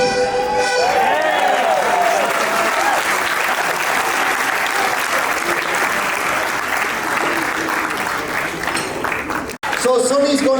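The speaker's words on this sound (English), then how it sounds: "A big round of applause for our Sneem set dancer." A hotel crowd claps loudly and continuously for set dancers, a full round of applause that swells and holds for several seconds before a voice cuts in at the end.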